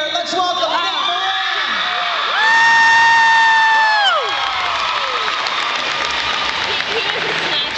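A convention crowd at a fan panel claps, cheers and whoops for an actor, a loud sustained roar with shouts that swell mid-way and then settle back into applause.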